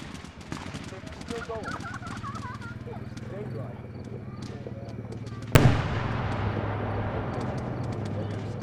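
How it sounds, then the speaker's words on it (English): Large homemade six-pound fireworks rockets launch outdoors, with scattered crackling pops followed by one sharp, loud burst midway that trails off into a lingering rumble, as a crowd murmurs and reacts. "That was 4 rockets he's made by himself."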